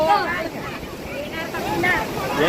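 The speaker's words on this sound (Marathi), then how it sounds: "आता मोठी लाट" Big ocean wave breaking and surging at Tarkarli beach, a broad steady wash of surf with wind noise on the microphone, while excited voices shout and chatter over it.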